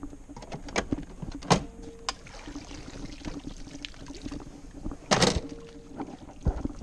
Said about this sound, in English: let me pull up my motor once